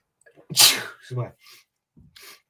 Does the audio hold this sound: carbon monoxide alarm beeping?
no